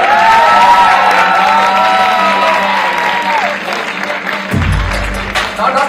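A standing audience applauds and cheers to welcome an actor at a Netflix series press event, loud and sustained, with music tones and a brief low thump near the end.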